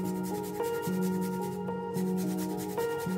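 Whole nutmeg grated by hand for a cold-method béchamel, a continuous close scraping and rubbing with short repeated strokes, alone without talk.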